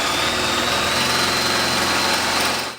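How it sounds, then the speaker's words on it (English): Harsh, continuous grinding as a drill bit chews against a metal bolt in an IKEA bed, loud and close, with a high whine running steadily for a few seconds before cutting off. "That terrible noise you can hear is the drill bit hitting the metal bolt"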